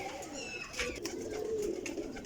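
A Teddy Golden pigeon with purple-tinged plumage coos softly in a low, rolling murmur that runs steadily through the moment, fairly faint with no voices over it.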